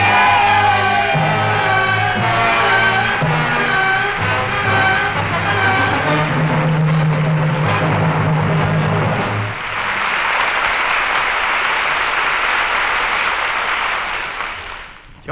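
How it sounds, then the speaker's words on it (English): A radio-show crowd cheers and applauds for Joe Palmer after a rousing call for a big cheer, with music first and then a broad, loud wash of whooping and clapping that swells and fades near the end. "Give the beard a great big cheer"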